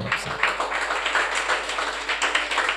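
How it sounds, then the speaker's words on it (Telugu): A church congregation claps hands during a sermon, a brisk run of many overlapping claps forming a loose, lively rhythm at moderate volume. "చప్పట్లు కొట్టాలి కూడా."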